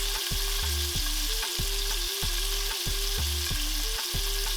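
A Wagyu ribeye steak sears in a pan with a constant loud sizzle, while regular rhythmic thumps and scrapes repeat about every half second.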